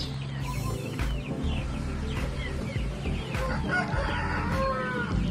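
Shamo and Aseel chickens clucking and crowing repeatedly amid steady farmyard background noise, with overlapping calls throughout, including a brooding hen.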